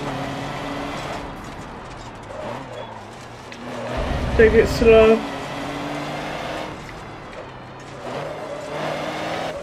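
A racing truck's engine in Forza Motorsport 7 drones and revs, swelling into a louder burst midway before settling back, under someone talking.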